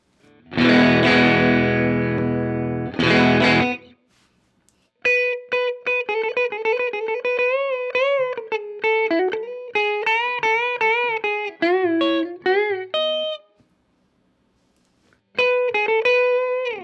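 Distorted electric guitar through a Benson germanium boost pedal into a Strymon Iridium amp simulator with gain raised: a thick fuzzy chord rings twice, then a run of bright single notes and bends with gaps, loud and saturated.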